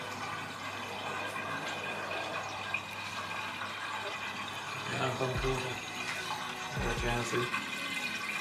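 Water runs steadily through a home hydroponic setup, a continuous gurgling rush with brief louder surges near the end, while a person talks over it.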